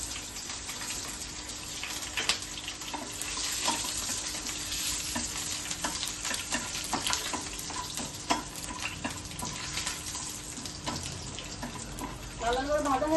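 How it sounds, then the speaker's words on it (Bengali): Garlic and dried red chillies fry in oil for an ivy gourd mash, giving a steady close sizzle broken by stirring clicks and scrapes, with running-water noise alongside and no talking. "রসুনটা আমি একটু লাল লাল করে ভেজে নেবো, আর শুকনো লঙ্কাটাও দিয়ে দেবো"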